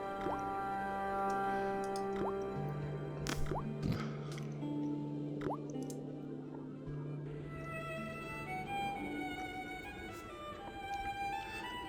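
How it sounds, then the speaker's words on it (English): A faucet dripping in the Broken Sword video game: soft, sparse water drips and plops sound close by over a faint sustained musical background, quiet and unhurried. "but it kept on dripping"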